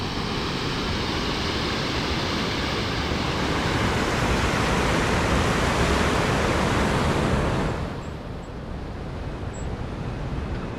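An artificial waterfall in an outdoor urban setting pours in a loud, dense, continuous rush, easing slightly near the end.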